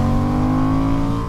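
A 2023 Honda CB750 Hornet motorcycle fitted with an SC Project exhaust runs loud and close, holding a steady, throaty engine drone with strong low harmonics.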